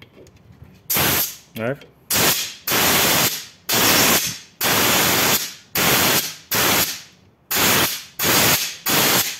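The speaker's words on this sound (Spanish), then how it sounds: "si yo le meto aire a presión acá, esto sale" Compressed air is fired in sharp, loud hissing bursts into a TH350 automatic transmission with a faulty oil pump, about ten blasts of roughly half a second to a second each, separated by short gaps, with a brief spoken word early on.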